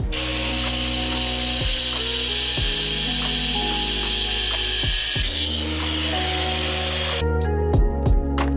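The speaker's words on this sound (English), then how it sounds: "John just cut the tie rods." Steel tie rods from a G35 clamped in a cheap Harbor Freight vise are cut with a loud, steady mechanical grinding and rasping, broken by repeated ratcheting clicks and strokes, with no voices.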